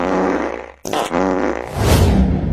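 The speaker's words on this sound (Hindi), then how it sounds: "छी छी छी छी, कितना पादता है।" A close, loud fart rumbles low for about a second, breaks off briefly, then resumes in a longer, rougher burst that swells toward the end.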